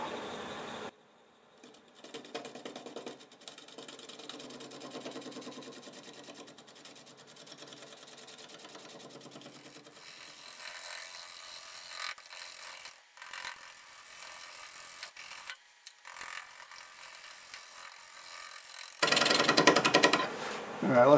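An olive wood piece spinning on a lathe at about 600 RPM is worked with a negative rake scraper, giving a steady close scraping and whirring that shifts in texture and grows louder near the end.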